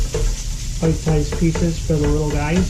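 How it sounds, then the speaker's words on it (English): Ground meat browning in a pan for a tomato meat sauce, a spatula scraping and chopping it into small pieces with steady sizzle and stirring, while a person talks over it. "still browning and chopping it up with a spatula"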